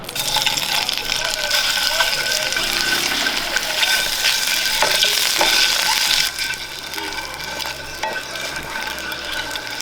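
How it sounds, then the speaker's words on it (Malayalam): Five eggs frying in coconut oil for egg masala crackle with a loud, close, continuous sizzle while a utensil stirs and scrapes the pan. The sizzle eases slightly partway through. "മുട്ടയൊന്ന് വഴറ്റാൻ വേണ്ടി ഒരു ടീസ്പൂൺ വെളിച്ചെണ്ണ ഒഴിച്ചു കൊടുക്കാം ഇതിലേക്ക് നമുക്കൊരു അഞ്ച് മുട്ട ഇട്ട് കൊടുക്കാം"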